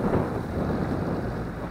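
Wind buffets and roars against the microphone while an off-road vehicle drives through tall grass in cold weather, a dense continuous low rush with no voices.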